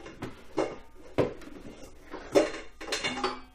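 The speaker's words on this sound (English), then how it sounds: "I got to get a good bowl." Ceramic bowls knocked and set down against one another in a kitchen, a few sharp clinks and clatters spread irregularly, fairly close and moderately loud, with no talk.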